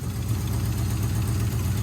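A Cummins diesel engine swapped into a Trans Am idles steadily with an exhaust manifold leak, giving a continuous, loud, low rumble with an even, ticking pulse and no talking.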